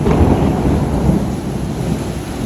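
A dense, heavy downpour hisses continuously with low rumbling thunder underneath, loud at first and easing slightly toward the end; no voices.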